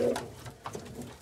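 Pigeons coo in an aviary with a low, throaty murmur and soft repeated calls, several birds close by and steady, with no talking.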